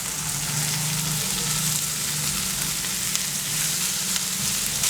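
Prawn ghee roast masala with onion, tomato, salt and curry leaves sizzles and fries steadily in a pan, a continuous close crackle with faint scraping as it is stirred, no voices.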